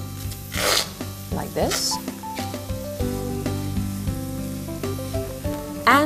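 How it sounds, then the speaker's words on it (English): Meat sizzling in a pan on a cookware range while being pressed down with a fork, a steady fry with occasional scraping and rubbing, under a person speaking close by. "Now we put the meat in like this and we press it with the fork. The meat will stick to the bottom of the pan"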